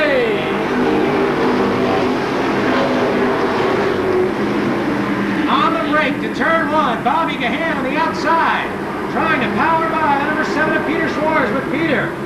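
Stock cars race at Seekonk Speedway in a 1992 Pro Stock 100, a loud, continuous engine roar rising and falling as the field passes, with a commentator talking over it throughout.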